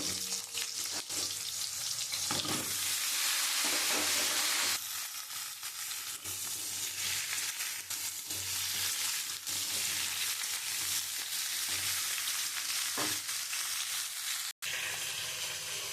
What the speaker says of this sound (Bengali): আমার ওই মাছ ভাজার তেলে আমি একটা একটা করে পটলগুলো একটু লাল লাল করে ভেজে তুলে নেব।